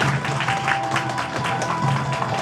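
Applause from the audience at a Korean radio station's award ceremony, a continuous crowd of clapping heard in a hall alongside faint background music.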